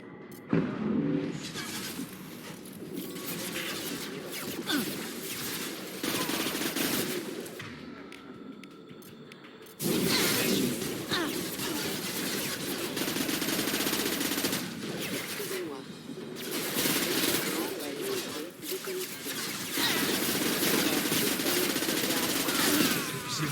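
Sustained automatic gunfire and bursts of shooting from the video game Mass Effect 2, loud and dense across the whole stretch with one brief lull, while someone speaks over the combat.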